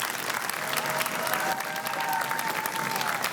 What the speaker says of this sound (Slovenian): Aplavz za obe ekipi.